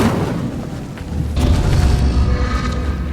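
Incendio fire spell cast in Hogwarts Legacy, a loud rushing whoosh that swells into a deep rumbling boom, sustained and dense for a few seconds without speech.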